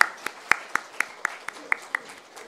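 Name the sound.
brief hesitant applause from church congregation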